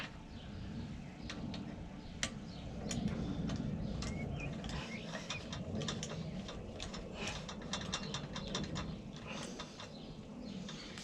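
A ratchet wrench clicks as nuts are tightened on a Volvo V70 during inner track rod end work, with quiet, close repeated pawl ticks in short bursts.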